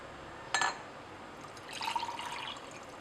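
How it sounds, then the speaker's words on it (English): Manganese sulfate monohydrate being stirred into 80 ml of water, heard as one sharp clink near the start, then a second or so of soft swirling and light tinkling, all close and fairly quiet. "It takes quite a bit of stirring to get it all into solution."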